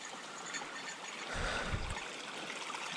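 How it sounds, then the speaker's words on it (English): Small creek in the Canadian wilderness flowing with a steady, soft, broadband rush, close by and faint, with a brief low rumble in the middle. "So, water break next to a little creek."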